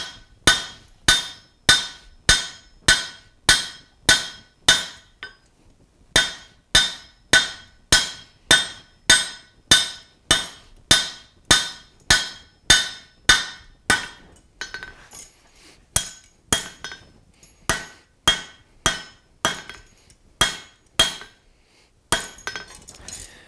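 Hammer blows ring out on hot steel over an anvil while a rivet header is forged, sharp metallic strikes in quick rhythmic runs broken by short pauses, loud and close.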